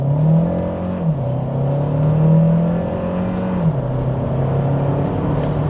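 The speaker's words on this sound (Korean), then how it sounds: "풀악셀입니다." A Kia Sportage 1.6 turbo hybrid facelift with 235 hp total system output accelerates at full throttle in sport mode. The steady engine drone rises in pitch, drops briefly at two gear shifts, then climbs again, close and continuous with no talking.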